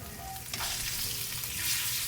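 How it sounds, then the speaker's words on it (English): Pork chops laid fat cap side down into a hot pan, a loud bright sizzle that swells just after they hit and holds steady, with no talking. "I'm just laying these into the pan. At this point I'm going the fat cap side down"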